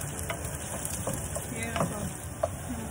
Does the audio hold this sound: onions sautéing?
yes